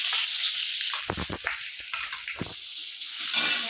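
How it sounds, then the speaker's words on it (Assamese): Onions frying in oil in a kadai with bay leaves, dried chillies and whole cumin make a close, steady sizzle, with bursts of bubbling crackle in the middle and no voices. "গোল্ডেন কালাৰ হোৱালৈকে মই ফ্ৰাই কৰি ল'ম"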